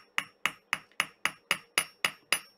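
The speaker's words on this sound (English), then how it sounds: "hammer this edge, hammer this curve, and then hammer the tip" Light metal hammer strikes on the edge of a wire-wrapped pendant, nine crisp, evenly spaced taps in a steady rhythm, close and clear with short ringing decays and nothing else audible.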